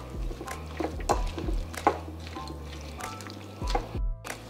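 Chicken bacon ranch filling for baked potatoes being stirred in a bowl, producing soft, thick, wet squelching and scraping strokes in an irregular rhythm, close and moderate in loudness, with a low hum underneath.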